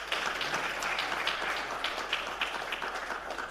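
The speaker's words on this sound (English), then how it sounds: "Ladies and gentlemen in the room, please give them a round of applause." Sustained applause from an audience in a conference room at a South African aviation event, a dense steady patter of many hands clapping throughout with no voices over it.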